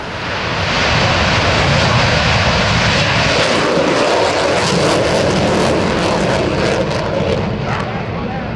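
A loud, roaring F/A-18C Hornet jet engine at an airshow rises and surges as thrust changes, a continuous powerful rumble with a hissing top, close and overwhelming.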